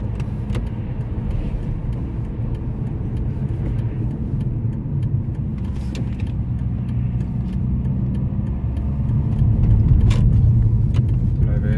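A BMW 320Cd E46 diesel engine hums steadily from inside the cabin with road rumble, the drone swelling slightly louder toward the end as the car pulls over.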